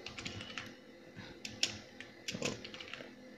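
Rapid keystrokes on a computer keyboard while typing code, a quiet run of irregular clicks with a few louder taps, nearby and with no talk.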